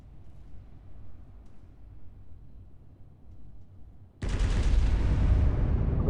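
Battleship turret guns fire in Roblox Naval 1945 with one sudden, very loud broadside boom after a stretch of low rumbling ambience, and the roar sustains and slowly rolls off.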